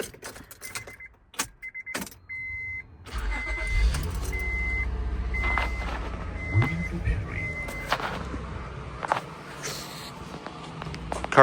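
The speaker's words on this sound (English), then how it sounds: "Let's turn on the ignition here." Car engine cranked with the ignition and settling into a steady idle, a continuous low rumble running after the start, with a few clicks and faint rattles over it and no talk.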